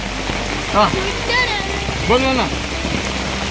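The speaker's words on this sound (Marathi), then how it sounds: "असं पाऊस पण चालू झालेला" Rain falls steadily in a Konkan forest as a constant hissing wash, while people talk briefly over it.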